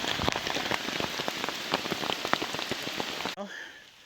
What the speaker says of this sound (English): The rain has let up a little bit,